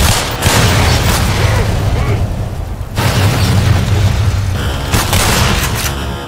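Shotgun blasts in the Black Mesa game come as loud, heavy booms in quick succession, with a short gap before more firing resumes. Combat noise hangs between the shots.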